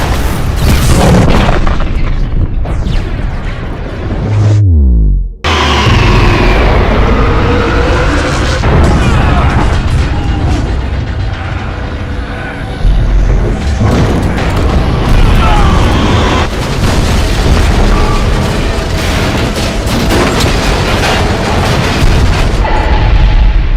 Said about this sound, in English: It's a really good explosion.